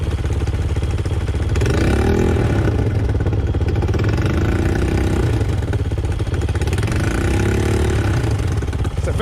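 A Chinese dirt bike engine runs steadily near the microphone, its throttle rising and falling in several revs over a constant idle rumble.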